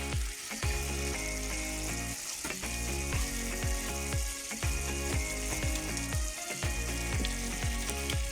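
Crater cake mixture cooking down in a pot while it is stirred, with steady close sizzling and bubbling and a run of repeated scraping strokes throughout, no voices.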